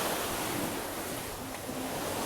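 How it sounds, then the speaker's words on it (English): Rough ocean surf at high tide below a clifftop hotel in Jamaica makes a dense, steady roar of crashing water mixed with wind buffeting the mic, with no voices. "the tide's been high and the waves have been pretty rough."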